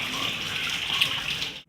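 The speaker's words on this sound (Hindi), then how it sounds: "ये भी बराबर मैं धोने लगा हूँ, मैं इसे धो लूँ।" Running water over white radishes being washed in a kitchen: a steady, close hiss of tap water splashing on the vegetables, continuous and fairly loud, cutting off at the end.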